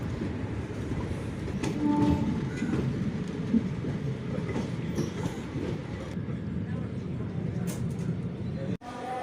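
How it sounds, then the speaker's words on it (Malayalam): A Shoranur–Nilambur passenger train rumbles steadily along the tracks after leaving Shoranur, with continuous rolling noise and faint clacking, heard from inside or close by. "ട്രെയിൻ ഷൊർണൂരിൽ നിന്ന് പുറപ്പെട്ടിരിക്കുന്നു."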